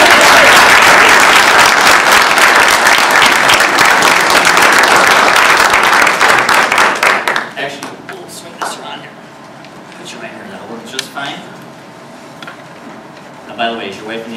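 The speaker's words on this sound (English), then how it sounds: "give her a round of applause." An audience at a humorous speech contest gives a volunteer a warm round of loud clapping for about seven seconds, then it stops abruptly and someone speaks alone with a few brief laughs.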